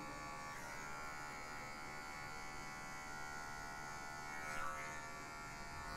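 Electric hair clipper buzzing steadily and faintly while cutting a mid fade, using only the corner of the blade at zero, a continuous hum with no voices.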